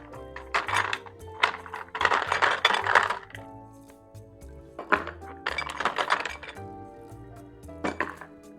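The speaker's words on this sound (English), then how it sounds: "We'll add in some more ice." Ice cubes drop into a glass of rum grog, clattering in several separate bursts of clinking and rattling against the glass, fairly close and clear with short pauses between pours.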